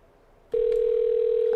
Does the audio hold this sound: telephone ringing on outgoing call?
yes